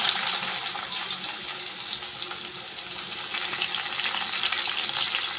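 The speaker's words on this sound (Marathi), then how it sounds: "आणि अशा प्रकारे आपल्याला कांदा, टोमॅटो, मिरची एकत्र असे व्यवस्थित फ्राय करून घ्यायचे" Onion, tomato and chili fry together in a pan for matar paneer, a loud, dense hiss of sizzling oil that holds steady throughout, with a few faint stirring ticks and no talk.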